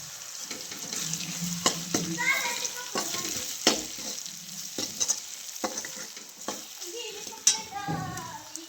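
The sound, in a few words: tomato and chili powder frying in oil, being stirred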